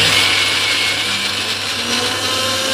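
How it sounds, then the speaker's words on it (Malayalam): A kitchen mixer grinder whirs loudly and steadily, blending coconut, cumin and green chili in yogurt into a paste, with a constant motor drone and no talking. "ഇത് കൂട്ടി തൈരിലാണ് ഞാൻ അരക്കുന്നത് കേട്ടോ നാളികേരും ജീരകവും ഒരു പച്ചമുളകും കൂടി അരക്കും"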